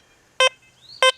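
A Deus 2 metal detector sounds two short, loud buzzy tones about half a second apart, a choppy blotchy signal over a faint background hum with no voices.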